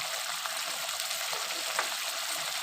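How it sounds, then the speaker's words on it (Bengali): Spice masala is sautéed in oil in a pan for an amudi fish tel jhal curry, giving a soft, continuous sizzling hiss with faint stirring clicks and no talking. "এবার আমি ভালো করে মশলাটাকে কষাতে থাকবো।"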